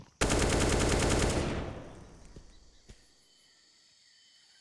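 Glock pistol gunfire in the video game Counter-Strike, a fast, loud string of close shots for about a second that then fades into a quiet ambience with a couple of faint distant pops.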